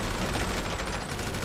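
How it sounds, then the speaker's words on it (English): Dense, continuous gunfire at a shooting range in GTA Online, a loud rapid fusillade of overlapping shots with no pauses. "this is your shooting range for target practice, team bonding"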